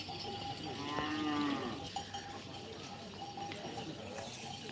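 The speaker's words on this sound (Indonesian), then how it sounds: "salah satu sapi besar" A large cow moos once in a short, low call amid a busy outdoor crowd at a Karapan Sapi bull-racing event, with other cattle and faint clanking in the background.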